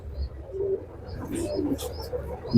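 Racing pigeons coo softly in a loft, low throaty calls coming close together over a quiet background, ending with a brief louder sound.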